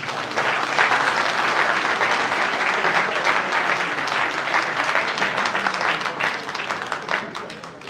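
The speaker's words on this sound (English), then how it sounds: "Can we clap for that, please?" An audience at a public talk in Germany bursts into sustained, dense applause that holds steady and loud for several seconds before tapering slightly, a crowd of many clapping hands filling the room.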